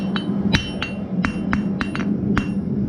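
Sharp metallic hammer strikes ring out on an anvil while forging the point of a hot steel hook, about nine blows in an uneven rhythm over a low steady hum.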